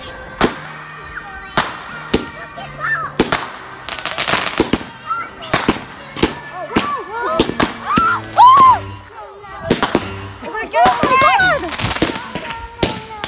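Fireworks on Canada Day pop and crack loudly nearby in repeated sharp bursts, with crackling and whistling in between, while people shout and talk over them.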